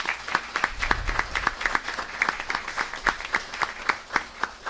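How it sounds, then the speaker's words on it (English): Small audience at a swearing-in ceremony for a new mayor and board of commissioners clapping, a sparse, distinct rhythmic patter of a modest group of hands at moderate distance, steady for several seconds. "Let's give them a round of applause."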